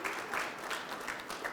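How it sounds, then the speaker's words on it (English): An audience at a community coffee-and-coaching event applauds in a steady round of clapping, with dense, even hand claps that carry through the whole short moment without any talk. "So give yourselves a round of applause."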